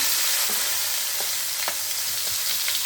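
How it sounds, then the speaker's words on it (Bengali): Onion paste hitting hot oil with whole garam masala for doi soyabin, a loud steady sizzle broken by several sharp clacks and scrapes of a stirring spoon, close and without voices. "এই দেখুন আমি পেঁয়াজ বাটা দিচ্ছি"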